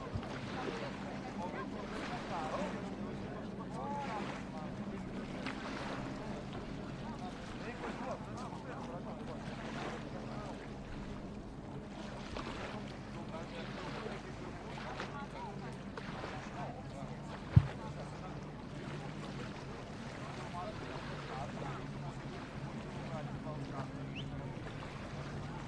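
A GP4 racing powerboat runs quietly past on a circuit at a Grand Prix in Poland, its engine a steady, moderate drone heard under continuous race commentary.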